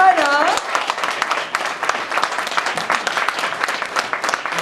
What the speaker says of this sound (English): Et je vous demande donc d'accueillir chaleureusement et d'applaudir comme il se doit Sigourney Weaver, qui arrive, Zoë Saldana,